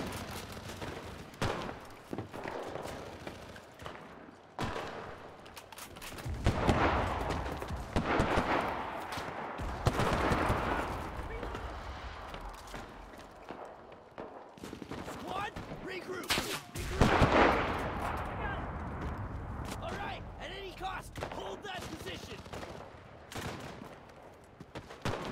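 Gunfire in the WWII Pacific shooter game Enlisted, with repeated bursts of rifle and machine-gun shots and distant explosions rolling across the whole stretch, loud and dense, while a player talks over parts of it.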